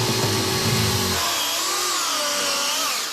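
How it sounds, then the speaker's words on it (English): A chainsaw cuts a hole through thick ice, its loud, steady engine whine running without pause; the low rumble drops away about a second in while the high-pitched buzz carries on. "Chainsaw?"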